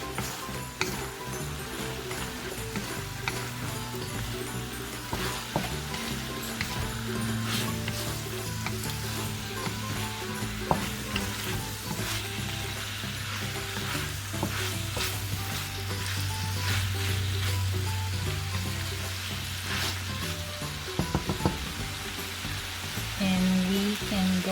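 Ground turmeric and black pepper sizzle steadily in a hot pan for Arroz Valenciana while a utensil stirs, with scraping taps and a low hum from the stove, close and fairly loud throughout.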